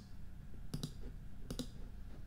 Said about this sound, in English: Right clicking on it, you can move these around.